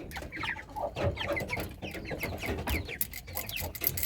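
A flock of chickens with many young roosters clucking, dense overlapping calls and chatter close by, continuous with no talking.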